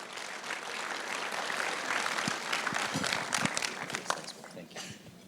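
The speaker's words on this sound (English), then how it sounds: "Please give him a round of applause." An audience at a property awards ceremony applauds, producing a sustained wash of clapping from many hands that swells slightly toward the middle and is heard from within the room.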